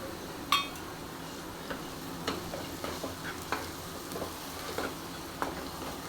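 Fried onion with a pinch of turmeric is stirred in a pan, with a soft, low sizzle and scattered light clinks and scrapes of the spoon against the metal.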